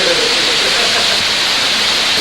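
Heavy rain from an outdoor storm at a youth camp pours down as a steady, loud broadband hiss with no breaks, dense and close throughout.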